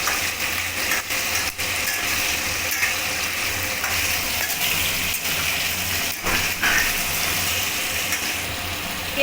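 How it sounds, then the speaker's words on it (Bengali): Snake gourd and potatoes fry together in a pan, producing a steady close sizzle with occasional stirring scrapes and clatter underneath. "চিচিঙ্গা দিয়ে একটু ভালো করে ভেজে নেব আলুর সাথে"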